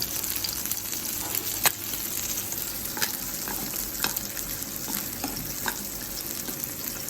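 A burger patty topped with egg and cheese fries in vegetable oil on a hot café griddle, giving a steady close sizzle with scattered pops and crackles throughout.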